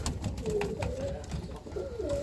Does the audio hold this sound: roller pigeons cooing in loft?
yes